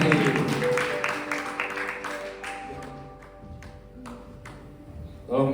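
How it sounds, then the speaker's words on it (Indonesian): An audience at a youth church gathering claps as a special guest is invited onto the stage, loud at the start and tapering off, mixed with musical tones and background voices. "Tepuk tangan dulu bagi Yuti."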